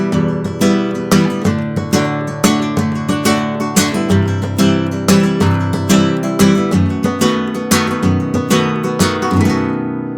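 Flamenco rumba strumming rings out on guitar: steady, driving rhythmic strokes with regular accented hits and full chords, loud and close, continuing throughout without any talking.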